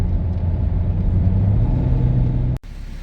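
A diesel car with glow plug trouble on a road test gives a steady, loud low engine drone and road rumble from inside the cabin, which cuts off abruptly near the end.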